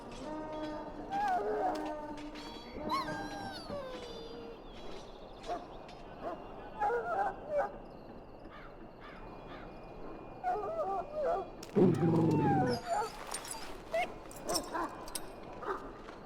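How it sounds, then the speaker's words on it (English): An injured dog whimpers and yips in Dragon Age Origins, its thin whines coming in short bursts over a game soundscape, with a louder stretch of cries near the end. "Now I can treat the dog properly, poor fella."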